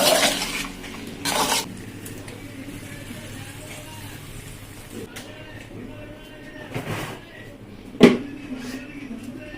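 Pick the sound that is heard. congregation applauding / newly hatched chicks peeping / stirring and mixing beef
stirring and mixing beef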